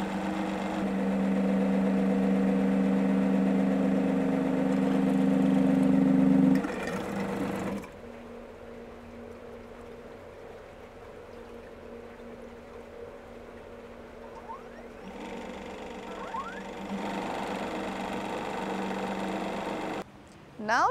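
A Liquistation CSF48 peristaltic sampler pump hums steadily while drawing a sample, a loud tonal drone for the first seconds that drops to a quieter running murmur with faint squeaks, then cuts off near the end.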